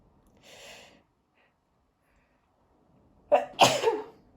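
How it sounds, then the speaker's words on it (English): A single loud sneeze with a sharp intake and burst, preceded by a soft breathy sniff, in an otherwise quiet room. "I'm about to sneeze."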